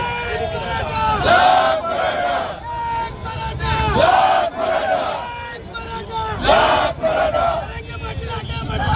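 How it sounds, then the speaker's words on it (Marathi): A large crowd of the Maratha community celebrates at Chhatrapati Shivaji Maharaj Chowk, loud and close, with voices rising in rhythmic waves of chanted slogans over a constant roar of cheering. "इस चीज़ के लिए हम सब लोग खुश होकर ये जल्लोष मना रहे हैं"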